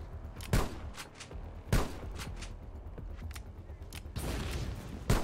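Bursts of gunfire from shooting in the PC survival MMO Lifeafter, with three sharp shots spaced a second or more apart over a steady rumbling game background, the last shot opening into a longer noisy stretch.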